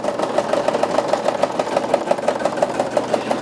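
A Brother sewing machine runs steadily, its needle clicking in a fast, even rhythm over a constant motor whir, close and fairly loud with no talking.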